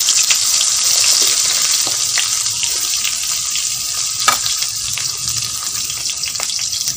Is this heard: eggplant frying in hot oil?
yes